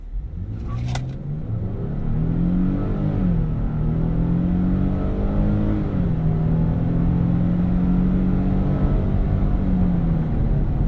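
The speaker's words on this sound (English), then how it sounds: "Go ahead and give it a little acceleration." A 2024 Nissan Frontier PRO 4X 4x4 engine accelerates steadily from inside the cab, its mid-pitched drone rising, dipping briefly at a gear change and holding a sustained roar for about ten seconds.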